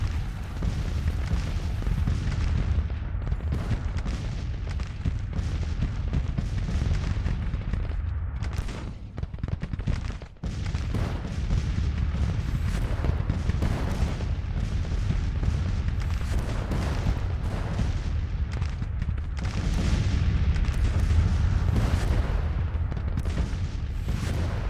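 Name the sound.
artillery fire in Grand Tactician: The Civil War video game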